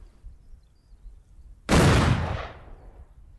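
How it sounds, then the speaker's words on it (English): An explodable barrel blows up in a video game: one sudden loud burst after a quiet stretch, then a roaring tail that fades over about a second and a half. "it will destroy, which in this case I think means it will explode because it's an explodable barrel"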